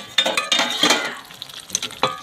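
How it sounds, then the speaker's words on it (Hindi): Peas and masala frying in a pan while being stirred, with a few close scraping strokes of a utensil over a loud, bright sizzle. "इस तरह भूजिए इसको देखिए फ्रेंड मैंने मिक्स कर दिया इसमें मटर"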